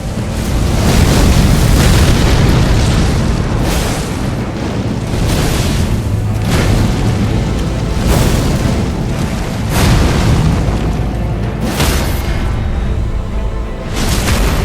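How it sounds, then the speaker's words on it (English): A boss slamming down and exploding in Elden Ring, giving repeated heavy, loud booming bursts roughly every two seconds over a constant roaring rumble. "when it slams, it does a jaw press and then an explosion"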